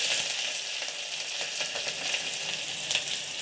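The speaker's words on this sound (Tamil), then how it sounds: "ரெட் சில்லி எல்லாம் போட்டு நம்ம ஃப்ரை பண்ணுறோம்" Onion, curry leaves and green chilli fry in hot oil for brinjal chutney, giving a loud, steady close-up sizzle with small crackles and the occasional scrape of stirring, no voices heard.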